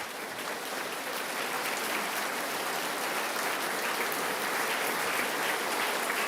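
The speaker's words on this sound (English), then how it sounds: "Please stand so we can give you some applause as well." A large audience at a governor's State of the State address applauds for a job-offer recipient, producing an even, continuous roar of clapping that sounds almost like heavy rain and carries on for several seconds.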